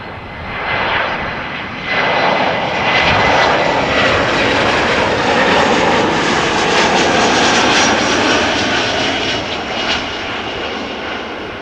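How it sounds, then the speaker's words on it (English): An Air France Airbus A321 lands at Amsterdam Schiphol's Polderbaan, its engines a loud, broad roar that swells and holds steady throughout before easing slightly at the end. "the A321 that just landed"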